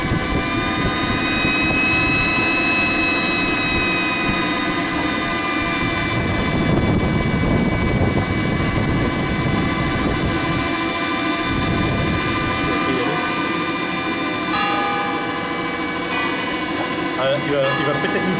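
A model jet engine with 26 kg of thrust starts up outdoors, producing a loud, steady roar with whining high tones throughout, while people talk over it.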